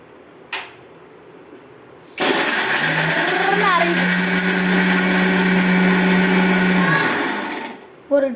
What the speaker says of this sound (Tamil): மிக்ஸியில் வச்சு